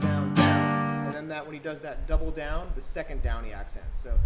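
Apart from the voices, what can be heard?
No everyday noises stand out.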